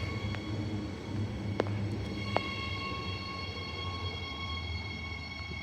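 A steady low rumble of a train on the Fremantle Line rails at night, with a few sharp clicks and a faint high whine over the continuous roar.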